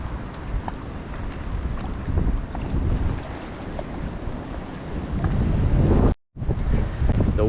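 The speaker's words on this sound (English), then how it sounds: "The wind is quite brutal." Strong, brutal wind gusts buffet the microphone by the water near churches and cemeteries, a continuous loud roaring rumble with a brief dropout near the end.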